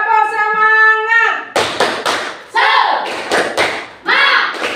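Children in a classroom perform the rhythmic 'tepuk semangat' clapping chant, sharp loud claps in short patterned bursts after a sung or called phrase, with voices chanting between the clap groups.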